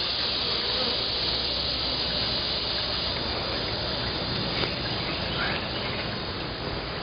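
Honey bees from a backyard hive being rolled in powdered sugar inside a jar, a steady, dense buzzing hiss that runs unbroken throughout, close and even in level, with no talking.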